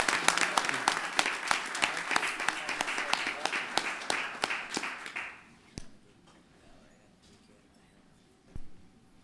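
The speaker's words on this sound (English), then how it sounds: "Give them another round of applause." Applause from the audience at a Birmingham city council meeting: a burst of many hands clapping that fades out after about five seconds, followed by quiet room noise and a single knock.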